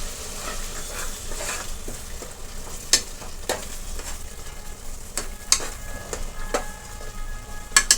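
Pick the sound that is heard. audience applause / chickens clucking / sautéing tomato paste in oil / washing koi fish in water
sautéing tomato paste in oil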